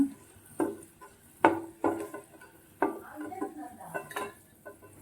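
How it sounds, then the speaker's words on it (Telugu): Roasted mango pickle ingredients scooped from a pan onto a plate, heard as a series of distinct metallic scrapes and clinks of a spoon against cookware, close and fairly loud, with quiet gaps between. "దీన్ని ఇప్పుడు ఒక ప్లేట్లోకి తీసి పక్కన పెట్టేసుకుందాం"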